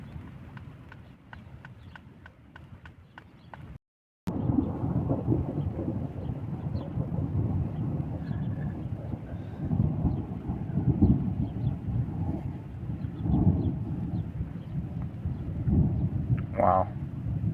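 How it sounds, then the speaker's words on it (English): Thunder rolls and rumbles repeatedly through a rainstorm at a campsite, deep booming swells rising and fading across the stretch, with a sharp crackle near the end and patter in the background. "The thunder is going crazy right now."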